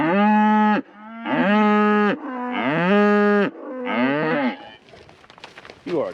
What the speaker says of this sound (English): You are a chopsy cow.